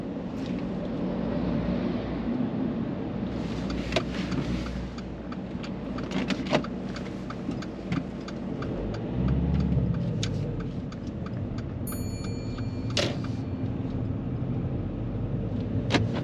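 A car during a driving lesson moves through busy city traffic, giving a steady low engine and road rumble with occasional clicks and a faint beep near the end, and no voices.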